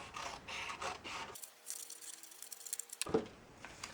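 Scissors cutting narrow strips of paper for a paper pumpkin craft, a short close run of crisp snipping and rustling with a brief quiet gap in the middle.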